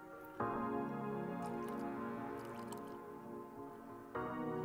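A cocktail of bourbon and absinthe is poured in the video game The Red Strings Club as a continuous liquid pouring effect lasting a few seconds, cut off briefly and then resumed.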